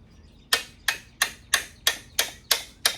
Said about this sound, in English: I'm going to hammer it on with the chisel.